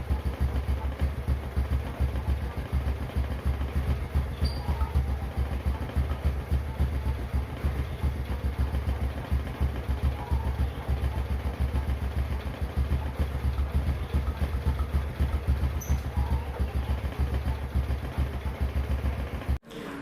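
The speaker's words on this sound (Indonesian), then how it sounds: "kita dengerin suara mesinnya" A 2006 Honda Supra X 125D underbone motorcycle idles steadily up close, its low engine note holding an even rhythm for about twenty seconds before cutting off abruptly at the end.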